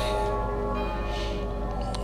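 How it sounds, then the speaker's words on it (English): Church bells chime in a medieval battle setting in the game Medieval 2 Total War, a steady ringing drone with overlapping tones that holds for the whole moment at moderate loudness. "The bells are chiming."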